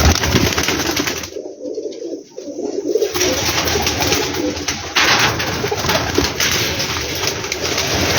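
Teddy pigeons coo steadily through most of the stretch, a close, continuous throaty murmur that drops out briefly near the start and then carries on alone without talk.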